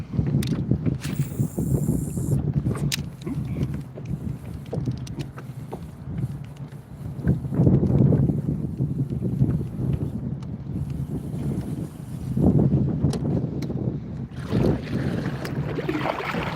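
Wind buffets the microphone from a canoe or kayak paddling along lily pads on a lake, with low rumbling gusts that swell and ease throughout over faint water and gear sounds.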